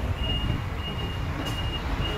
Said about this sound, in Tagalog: So, bilisan natin at baka tayo maipit ng truck ng basura.